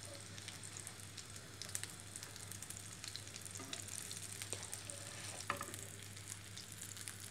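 Fish cakes fry gently in shallow oil with a soft, steady crackle and sizzle, quiet and close, over a low background hum, with a few faint clinks.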